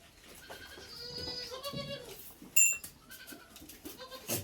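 Several goats bleat in a cartoon comedy scene, a run of nasal wavering calls overlapping one another at close range, with a sharp knock and short bursts in between.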